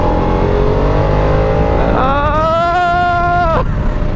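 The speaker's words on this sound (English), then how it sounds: "It's a pretty high revving motor" A Harley-Davidson Nightster S engine revs close and loud, a steady growl that climbs sharply to a high, buzzing pitch for over a second, then drops away abruptly.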